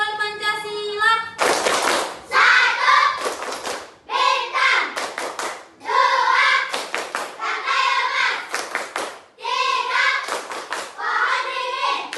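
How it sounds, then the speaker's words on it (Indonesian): A school class performs a rhythmic clapping chant for the Pancasila symbols, children's voices singing in unison punctuated by sharp group claps and pats in repeating patterns, led by a teacher's voice at the start. "Oke, tepuk simbol Pancasila."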